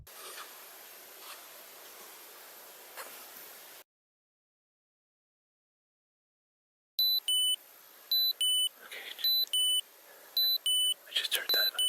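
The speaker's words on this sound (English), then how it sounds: "But the alarm went off, and I think it scared him off." An RV alarm sounds in a repeating series of sharp, high electronic beeps in bursts after a stretch of silence, close and loud, with faint rustling and whispery noise before it.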